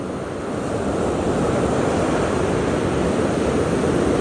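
Ocean surf rolls and breaks along a beach used for surf perch fishing, a steady, dense roar of white water with constant wind noise, loud and close with no talking.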